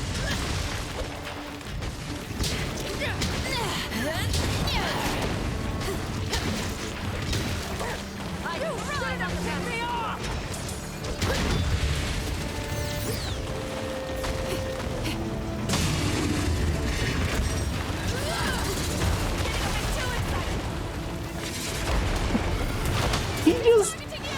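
Gunlance shelling blasts in Monster Hunter Rise Sunbreak, a steady run of heavy booms and sharp bursts during a monster fight, mixed with battle noise and someone talking over the action.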